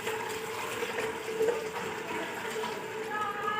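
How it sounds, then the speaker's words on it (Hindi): Water poured into a kitchen bowl while making dahi bhalla, a steady close splashing and trickling that runs for a few seconds with a faint voice in the background. "ये वाला मैं पानी का भर के डालती हूँ।"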